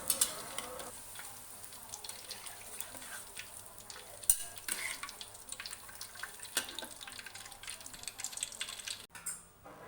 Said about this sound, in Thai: จะเอามะเขือยาวลงไปลอยน้ำมันนะคะ